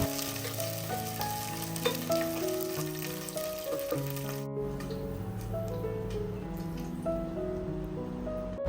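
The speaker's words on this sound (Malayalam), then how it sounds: "ഉണക്കമുന്തിരി കൂടെ ഇട്ട് കൊടുത്തിട്ടുണ്ട് വെള്ളം ഉണ്ടായിട്ടാണ് നല്ലോണം പൊട്ടിത്തെറിക്കുന്നുണ്ടായിരുന്നു" Raisins frying in hot ghee, spluttering and popping from trapped water, with a steady sizzle partly buried under loud background music throughout.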